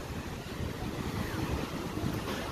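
Rough, choppy sea waves wash in at Kayacık beach in Dalaman, a continuous low churning surge mixed with gusty wind noise, steady and fairly loud with no talk.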